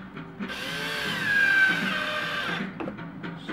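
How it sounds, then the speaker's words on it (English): A power drill drives reused screws into the back side of redwood siding boards, a single whirring run that rises in pitch and fades after about two and a half seconds, with light knocks afterward. "Screwing into this back side of the wood so that no screws are showing outside"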